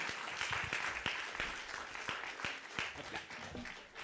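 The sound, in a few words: audience applause for conference speakers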